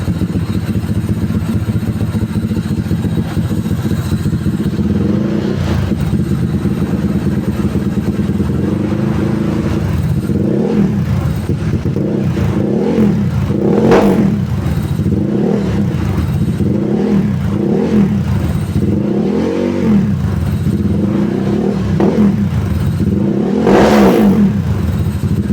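A Honda Stylo 160 scooter with a modified CVT running without a pulley, idling loudly up close and then blipped through a series of repeated rev bursts, with two bigger revs near the end and no talking.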